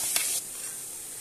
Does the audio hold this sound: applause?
no